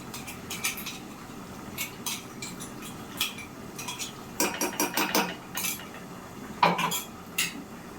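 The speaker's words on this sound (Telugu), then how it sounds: "వేసేసుకొని ఒకసారి కలుపుకుందాము" A spoon clinks and scrapes against a cooking pot while mutton curry with ground coriander and cumin is stirred. The clatter comes in irregular bursts over a quiet kitchen background, with no one talking.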